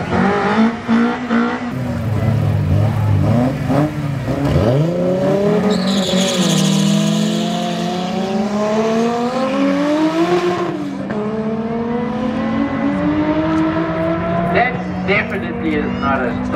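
Drag racing cars at Tarlton International Raceway street-to-strip track day, engines roaring and revving as they launch and accelerate down the strip, with tire squeal, loud and close, an announcer talking over it.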